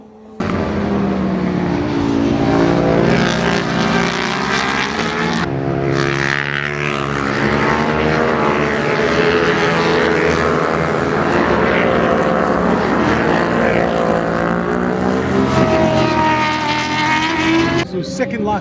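Lightweight racing motorcycles race past at Knockhill circuit in Scotland, their high-revving engines a loud, continuous scream with rising and falling pitch as several bikes pass close by.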